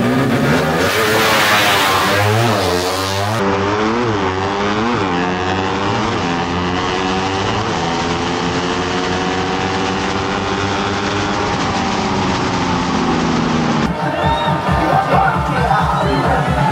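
Pushrod motorcycles roar through a bracket drag race, engines revving hard with rising and falling pitch sweeps as bikes launch and pass, loud and continuous with a crowd faintly beneath.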